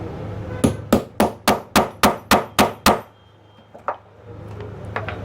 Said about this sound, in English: This is my small punch, and I'll hit it with my hammer